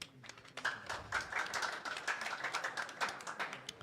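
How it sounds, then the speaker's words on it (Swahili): Applause at a signing ceremony for a return-to-work agreement with doctors, a group clapping in quick irregular bursts that build and stay steady, moderately loud and close. "Please let's clap"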